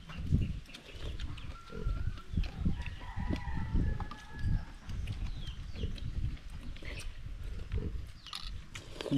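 Rooster crowing with chickens clucking in a rural yard, fairly quiet and somewhat distant, mixed with scattered thumps and outdoor background noise.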